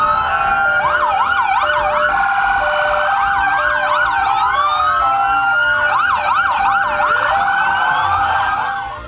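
Several police car sirens from a convoy of 29 police cars wail and yelp together, overlapping rising and falling tones, loud and continuous, with a faint hum of vehicles below.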